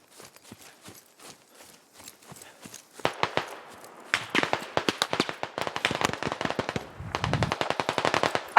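Rapid bursts of machine gun fire in a tactical shooter video game, scattered single shots at first, then long, loud automatic volleys with rattling rhythm dominating the second half.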